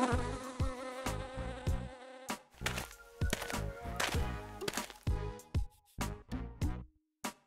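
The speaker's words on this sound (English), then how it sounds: "this is a bee." A bee buzzes close by in on-and-off bursts, its droning hum starting and stopping repeatedly with short silent gaps in between.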